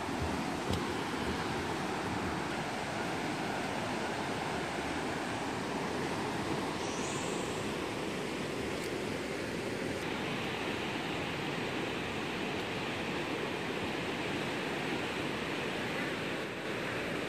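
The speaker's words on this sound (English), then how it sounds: "look at that waterfall" Waterfall beside a countryside hiking trail in Japan, a steady, loud broadband rush of falling water that continues unbroken throughout, close by with no voices.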